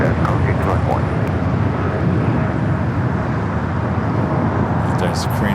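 A jet airliner moves at Los Angeles LAX airport, its loud, continuous, deep engine roar and broadband rush filling the air throughout, with a voice faint beneath it.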